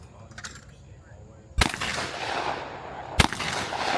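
Shotgun blasts at clay targets on an outdoor shooting range: two sharp, loud reports about a second and a half apart, each followed by a broad rolling echo.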